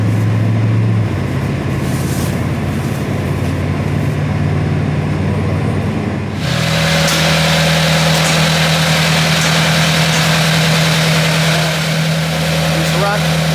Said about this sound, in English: Just trying to run some heat through the tractor so it cleans the carbs